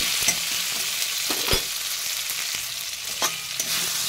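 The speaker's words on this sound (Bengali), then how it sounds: "এবার আমি আলুগুলো দিয়ে দিলাম, দিয়ে হালকা একটু নাড়াচাড়া করে ভেজে নেব।" Potatoes frying in a pan for a Bengali cabbage kofta curry, with a steady sizzle broken by several sharp scraping stirs, close and clear with no talking.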